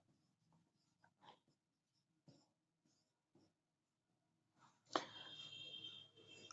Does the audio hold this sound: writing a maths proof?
yes